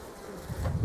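Honeybees buzzing at a hive during queen rearing, a low droning hum that swells louder toward the end of the short stretch, with no voices.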